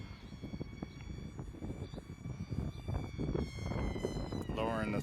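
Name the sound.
cheap RC model airplane engine flying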